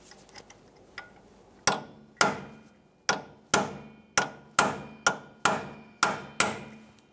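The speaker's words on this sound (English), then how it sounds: "You can use a hammer and punch." Hammer and punch staking an axle nut on a 2007-2013 Acura MDX 3.7L V6, a few light taps followed by about ten sharp metallic strikes at a steady pace, close and ringing.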